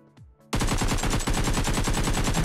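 Rapid automatic gunfire in the video game PUBG Mobile, a loud continuous burst of tightly spaced shots that begins abruptly after a brief quiet moment and runs unbroken to the end.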